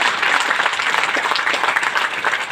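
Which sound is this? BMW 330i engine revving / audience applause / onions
audience applause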